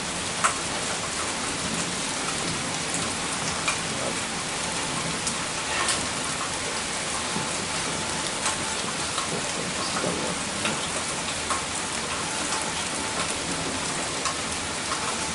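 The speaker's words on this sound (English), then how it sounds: "Yeah, more rain, more wind, more thunder." Steady rain pours outside during a windy thunderstorm, a constant close hiss of drops on surfaces with scattered louder patters, and no voices.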